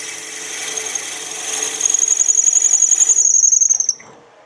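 Drill boring into a wooden handle blank for a premium pizza cutter, a close, loud grinding whir that rises to a steady high squeal for about two seconds before stopping abruptly.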